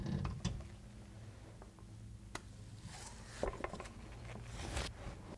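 Differential being pulled out of the rear axle of a Land Rover 90, heard as close metallic clunks, scrapes and creaks in irregular bursts, with a few sharp knocks over a low background hum.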